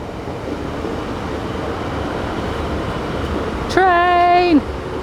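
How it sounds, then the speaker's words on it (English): A train near the coast at Carbis Bay heading toward St Ives rumbles steadily past, then sounds a loud, clear two-tone horn for about a second near the end. "the train's just going to come past"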